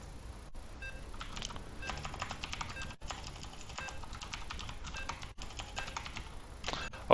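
Computer keyboard typing during a StarCraft II tournament broadcast, with a steady run of fast, close clicking keystrokes continuing throughout without pause.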